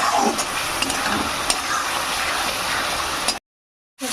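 Masala and potatoes frying in oil in a pan while cooking with cabbage and rohu fish head, a steady close broadband sizzle with a few small pops and stir scrapes, no talk, ending in a short silence.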